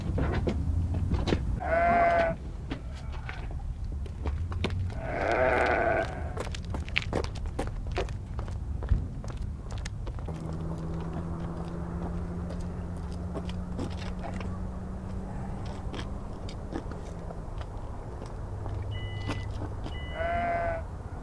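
Sheep bleat several times, near and fairly loud, over constant shuffling hooves and rustling movement in a livestock pen, with a low steady hum partway through.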